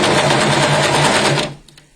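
An overlocker sewing machine with its blade fitted stitches fabric in a rapid, loud, close whirring run that stops abruptly after about a second and a half, leaving faint clicks.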